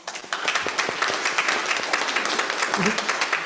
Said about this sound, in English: Can we get them a round of applause?